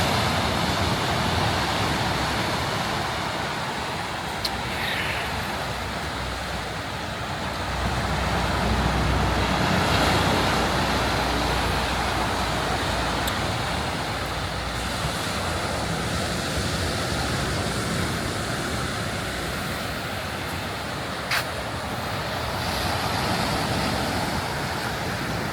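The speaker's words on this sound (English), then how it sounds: "the beach is lovely this morning" Steady waves roll and wash continuously on a sandy beach in the morning, with a broad, constant surf roar and occasional small clicks, no speech.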